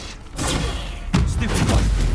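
Bombarda explosion spell cast in Hogwarts Legacy, with a sharp blast around the midpoint and rumbling, crackling aftermath over loud combat din.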